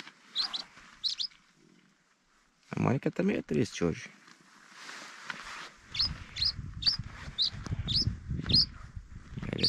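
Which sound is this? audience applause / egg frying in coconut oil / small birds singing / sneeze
small birds singing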